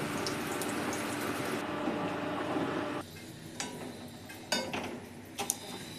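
Eggs boiling in a pot on a home stove: a dense, steady bubbling rush that drops in level partway through, followed by scattered clinks and light knocks against cookware.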